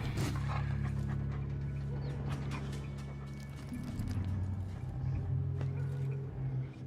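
A dog in the Dishonored 2 video game pants in quick rhythmic breaths over a steady low game-ambience hum, close and moderately quiet, with faint footstep-like clatter.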